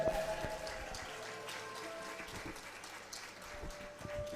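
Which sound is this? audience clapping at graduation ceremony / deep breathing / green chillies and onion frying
audience clapping at graduation ceremony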